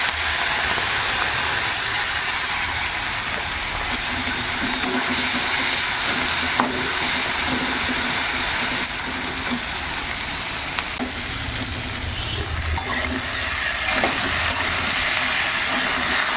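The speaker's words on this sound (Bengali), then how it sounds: "আগে চিংড়ি মাছগুলো ভেজে নেবো" Prawns fry in hot oil in a pan for a curry, giving a steady, loud, crackling sizzle that runs unbroken throughout with no talking.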